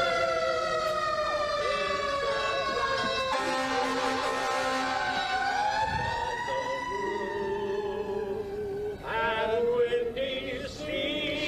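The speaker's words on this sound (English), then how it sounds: "the siren commemorated the time that the earthquake struck San Francisco 118 years ago" A commemorative civil defense siren in San Francisco, marking an earthquake anniversary, wails and rises and falls steadily, its tone sweeping up and down, sounding somewhat distant among outdoor city noise.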